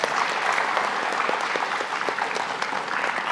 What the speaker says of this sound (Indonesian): Beri tepuk tangan buat teman Anda.